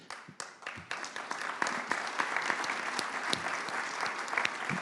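Audience applause at the Nice Climate Summit, a conference session on the ocean: dense, steady clapping from a large crowd that rises quickly and holds, with no voices over it.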